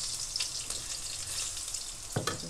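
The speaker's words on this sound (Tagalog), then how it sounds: "Gisa natin yung bawang." Garlic sautés in oil in a pan for a chicken dish with coconut milk and papaya, making a continuous close sizzle. A short utensil scrape sounds near the end.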